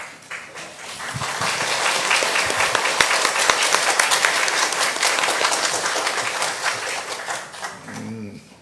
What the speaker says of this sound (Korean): 박수는 왜 하시지?